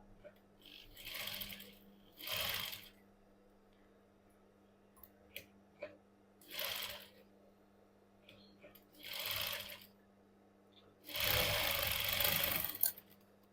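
A sewing machine stitches a princess-cut blouse in short separate bursts of whirring, about five runs of a second or two each, with a longer final burst, quiet gaps and faint clicks between.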